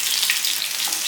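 Dried red chillies and curry leaves crackle and sizzle in hot oil in a pan, a steady, close, hissing fry with no voices over it.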